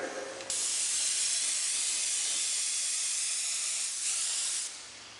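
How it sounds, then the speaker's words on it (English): Airbrush spraying paint in one continuous, steady hiss that starts abruptly, holds for about four seconds and then tapers off, fairly close and quiet, with no talking. "And then just take your airbrush and spray it again."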